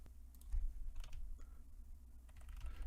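Computer keyboard keys and mouse clicks tap out sparse, close, quiet strikes during a copy-and-paste edit in vMix streaming software, irregular clicks over a low background rumble with no speech.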